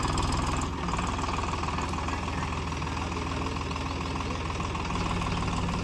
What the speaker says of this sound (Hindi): ट्रैक्टर निकलने लगा है, तो ट्रैक्टर चालू हो गया दोस्तों।